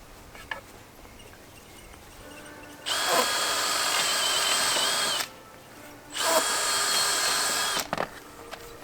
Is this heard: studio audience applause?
no